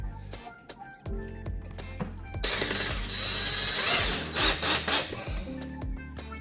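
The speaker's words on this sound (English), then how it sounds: "These are pretty much self-tapping screws. Just got to put a little bit pressure." A power drill drives self-tapping screws while window shades are installed, with whirring bursts of varying length broken by short pauses and the clatter of handling; close and moderately loud.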